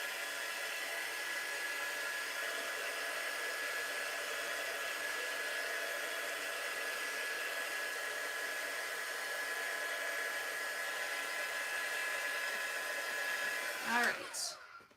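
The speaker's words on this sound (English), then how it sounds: "Let's just give our chalk paste a little blast of the dryer here." Heat dryer blowing on chalk paste in a jar, a steady loud whooshing whine held for about fourteen seconds before it cuts off abruptly.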